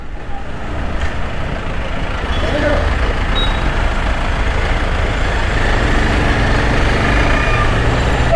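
Trucks and other vehicles halted in a roadside traffic jam, a constant low engine rumble and road noise from nearby heavy vehicles, steady throughout with a faint hiss of brakes.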